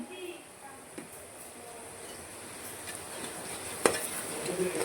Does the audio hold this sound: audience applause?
no